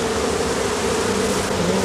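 Dense, steady buzzing of many bees around a straw bee skep at dusk, a continuous close drone with no voices.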